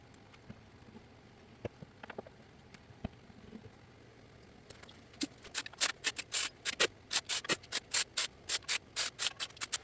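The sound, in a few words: wiping transmission pan mating surface with a clean rag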